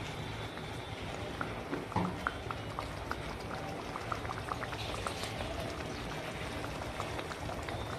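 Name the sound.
water being poured into a pot of chickpea curry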